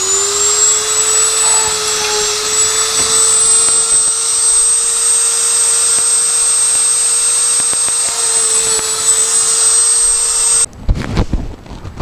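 A scroll saw whines at a steady pitch for about ten seconds while cutting wood, then shuts off, followed by a few clattering knocks.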